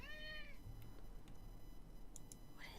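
A pet cat gives a clear rising meow up close at the start, a quiet pause follows, then a second meow begins at the end, all over faint background hum.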